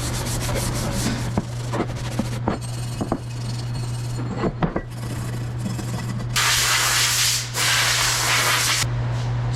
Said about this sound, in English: So I'm just going to give it a little Scotch-Brite,